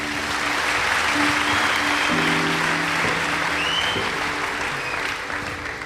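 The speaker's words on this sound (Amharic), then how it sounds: "አጨብጭቡለት።" A church congregation at a youth gathering bursts into sustained applause, a dense wash of clapping from many hands that holds steady and fades slightly at the end, with faint voices underneath.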